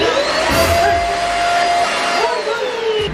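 A vacuum cleaner runs steadily on a bed in an apartment, a loud continuous whine and whoosh with a faint shifting pitch as it moves, while voices talk over it.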